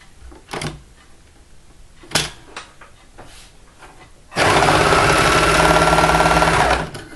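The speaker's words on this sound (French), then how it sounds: "on peut le réaliser à la surjeteuse ou bien à la machine à coudre avec un point élastique" A sewing machine stitches fabric with an elastic stitch in one steady, loud burst of fast stitching for a couple of seconds, after quieter handling noises and small clicks of fabric being adjusted.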